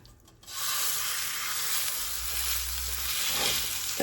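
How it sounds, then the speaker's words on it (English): Pork tenderloin hitting hot oil in a skillet, setting off a loud, steady, bright sizzle that starts abruptly and continues without pause. "I'm going to start heating the oil and we'll put our pork loin right in there."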